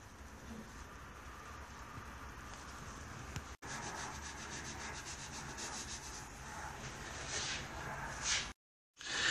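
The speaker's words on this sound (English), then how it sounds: "sandpaper rubbing on the rocks very carefully, and you get lovely effects" Sandpaper rubs steadily across painted rocks on a painting, a continuous close, soft scratching with a quick rhythmic stroke pattern and a few short gaps.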